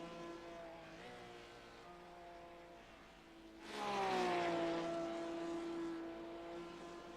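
Onboard engine of a WPR prototype race car at the 10 Hours of Le Mans in an endurance racing game: a steady drone rises sharply to a louder, rising whine about midway, then holds a smooth high pitch as the car accelerates, with no talk.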